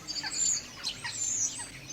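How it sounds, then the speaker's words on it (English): Small birds chirp and tweet at a garden bird table, quick high repeated calls overlapping in short bursts, fairly close and lively with no talking. "all the birds in the district had discovered Jack's bird table"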